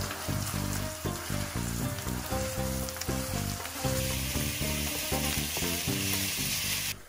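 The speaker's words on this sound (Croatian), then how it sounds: "Kratko dinstamo da luk zasija, pa potom dodajemo mljeveno meso" Chopped onion and minced meat sautéing in olive oil for moussaka produce a constant, dense sizzle that sits under prominent background music for the whole stretch.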